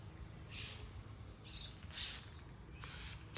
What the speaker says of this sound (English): Two birds fighting.